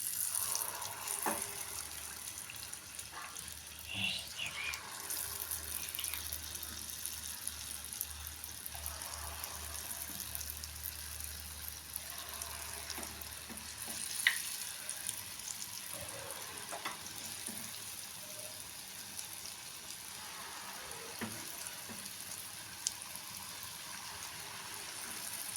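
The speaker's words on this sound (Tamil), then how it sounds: "எண்ணெய் காஞ்சிச்சுங்க. நம்ம ஒன்று ஒன்றா போட்டுக்கலாம்." Sweet bondas for a tea-stall evening snack sizzle steadily in hot oil, a continuous close bubbling hiss that runs without pause throughout.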